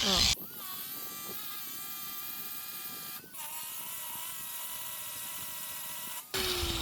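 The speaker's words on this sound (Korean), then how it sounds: "이거 샌딩 해볼게." A power sander works over a large metal gate, giving a thin, steady motor whine with a constant buzzing drone and two brief interruptions. It is fairly faint and continuous, with no other sounds over it.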